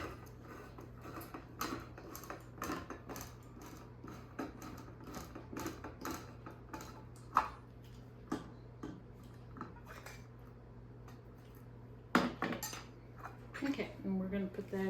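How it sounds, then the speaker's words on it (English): A can opener working around a can's curved rim, with rapid metallic clicking and ratcheting under quiet, scattered clinks, plus a couple of sharper knocks near the end. "if I can get my can opener to work"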